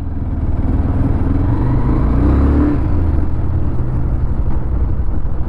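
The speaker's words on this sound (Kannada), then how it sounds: "ಎಕ್ಸಾಸ್ಟ್ ಸೌಂಡ್ ಈ ಥರ ಕೇಳಿಸುತ್ತೆ, ಇಂಜಿನ್ನ ಸೌಂಡ್ ಈ ಥರ ಕೇಳಿಸಿದೆ" 2024 Bajaj Pulsar 220F motorcycle exhaust and engine under acceleration in first gear, a loud, close, continuous low drone with a slight rise in pitch midway, heard alone without talk.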